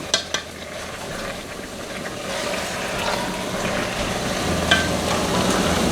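Venison and vegetables in a stir fry sizzle steadily in a hot pan over high heat, a continuous frying hiss with a few sharp clinks of a utensil near the start.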